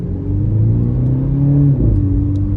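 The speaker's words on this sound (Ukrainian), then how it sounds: "Ого, який вихлоп, вона перестрелює навіть." A MINI car's engine revving up and holding a loud, throaty exhaust note close by, with a brief dip and renewed rev near the end; distinct pops or backfires are not clearly separable.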